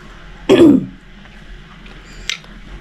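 One sharp, close cough breaks a quiet room, followed by a faint click a moment later.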